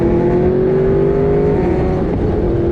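Kawasaki Ninja ZX-6R superbike engine held at a loud, steady high rev with a slight pitch drift, close and continuous, with no talking.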